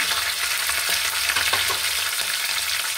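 Curry leaves and spices with raw peanuts hitting hot oil in a pan give a loud, dense, continuous sizzle and crackle close up, with faint stirring scrapes and no voices.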